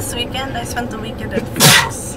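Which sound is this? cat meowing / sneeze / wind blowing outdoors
sneeze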